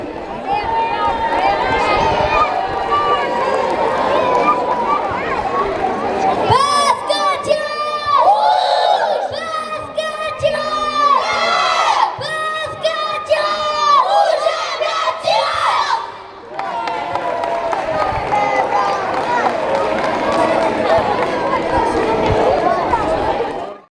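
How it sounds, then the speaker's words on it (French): A loud crowd of children and adults cheers and shouts continuously at a youth tournament awards ceremony in Saint-Sever, with bursts of high-pitched yelling over the steady roar and a voice speaking through it. "On applaudit les Tyrosais."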